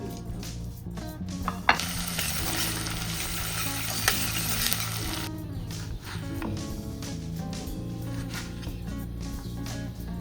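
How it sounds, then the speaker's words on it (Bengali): Cardamom pods and cloves dry roasting in a pan for a chicken curry spice mix, giving a steady close crackle and sizzle with brief stirring scrapes, loudest in the middle stretch. "এলাচি আর লং দিলাম। এটাকে খুব সুন্দর করে ড্রাই রোস্ট করে নেব।"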